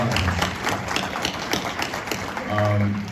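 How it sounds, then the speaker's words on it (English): Audience applause closing out a three-day NOMA conference, a steady patter of many hands that rises toward the end, with talk and a voice mixed in over the clapping. "Can we give them a round of applause?"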